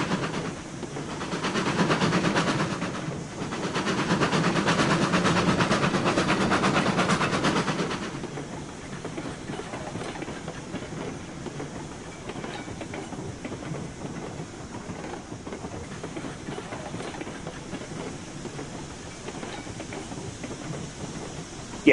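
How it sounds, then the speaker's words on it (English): A White Pass diesel locomotive runs in Railroads Online, a steady rumbling drone that swells louder for several seconds early on, then settles into a quieter continuous engine rumble with light rail clatter. "Oh, those white pass diesels are sweet."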